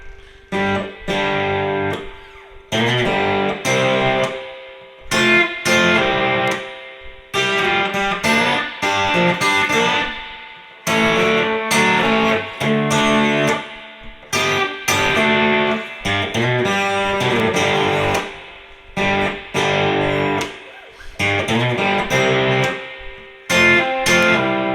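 Guitar works slowly through a verse in a classic rock style, with strummed chords and picked phrases in loose, halting bursts with short gaps, close and clear.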